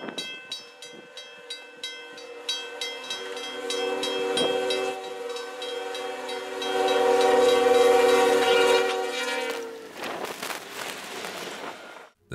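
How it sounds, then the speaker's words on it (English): A train locomotive races through deep snow in a wintry landscape, its horn blaring loud and sustained for several seconds over the rumble of rolling wagons, with rhythmic clatter before and after the blast. "the train thundered through the wintry landscape"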